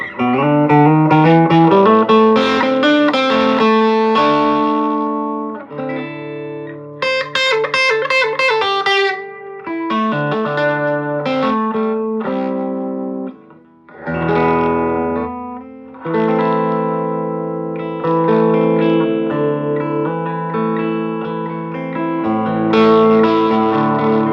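Electric guitar played through a 1963 Gibson Falcon GA-19RVT tube amp with tremolo and reverb off, a dry, slightly gritty tone with chords and single-note runs ringing continuously and fairly loud, no wobble or echo.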